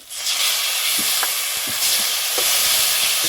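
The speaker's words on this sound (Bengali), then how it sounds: "এটা এখন আমি একটু ভালোভাবে নাড়াচাড়া করে নেবো, মশলার সঙ্গে মাখিয়ে নেবো।" Spices and tomato paste stirred in a hot pan, a steady sizzle with scattered scraping knocks of the spoon against the pan, close and fairly loud, no voice.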